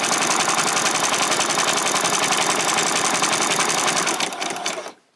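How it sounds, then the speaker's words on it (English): A sewing machine runs a steady zigzag stitch down the side seams of ruffled-bottom shorts, a loud continuous whirring hum that holds evenly for several seconds before slowing and stopping near the end. "I'm just going to do the zigzag, run it down through, all the way down these 2 side seams."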